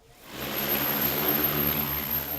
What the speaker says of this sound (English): the drone unit begin preparing for their next mission by test flying their newly repaired drone